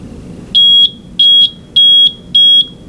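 Piezo buzzer of a smoke alarm sounding with amplification switched back on: four loud, shrill, steady beeps in a regular on-off rhythm, each about a third of a second long, over a low background hum.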